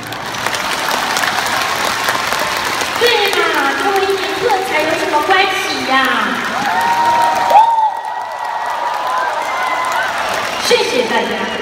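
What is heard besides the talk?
concert audience applauding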